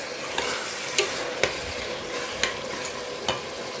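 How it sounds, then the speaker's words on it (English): Steady sizzle of meat frying in a pan with ginger and garlic, with a few sharp clinks of a utensil stirring at intervals. "I fry it together with the meat"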